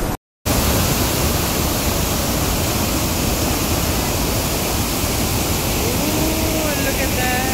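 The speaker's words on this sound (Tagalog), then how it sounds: "Ang ganda ng waterfall." Shifen Waterfall in Taipei, Taiwan, roars as a steady, loud broadband rush of falling water after a brief silent gap at the start, with faint voices of visitors in the background.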